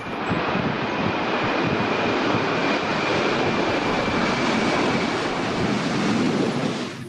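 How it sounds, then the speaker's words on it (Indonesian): A toy airplane gives off a steady, loud engine roar with a faint high whine that holds without a break from start to finish. "lihat ada pesawat terbang"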